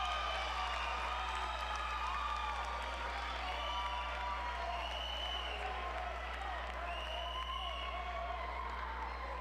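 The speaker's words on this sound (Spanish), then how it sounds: "Fuerte el aplauso para Mr. Cojedes" Applause from the audience fills a final gala of the Mister Universo Venezuela 2023 pageant. Steady clapping and crowd noise run throughout at low level under a constant hum.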